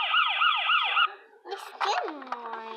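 A toy ambulance siren wails in a rapid electronic up-and-down pattern for about a second, then stops, followed by a voice talking.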